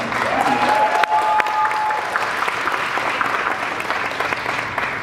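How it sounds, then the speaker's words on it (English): Audience applause at a university Asian heritage celebration keynote in the Midwest, a dense, steady wash of clapping from a large crowd that holds loud and even throughout, with a brief whistle-like tone near the start. "give yourself a round of applause"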